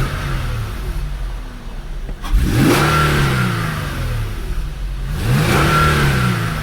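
An Infiniti G37 fitted with a cold air intake revs twice from idle, each blip rising quickly and falling away, loud and close.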